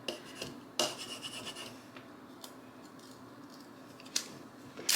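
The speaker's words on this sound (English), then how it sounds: "Just taking my little Cricut squeegee here and rubbing my transfer on." A small Cricut squeegee rubbing a rub-on transfer onto a surface, giving a few short scraping strokes and soft rasps, close but faint against a quiet background.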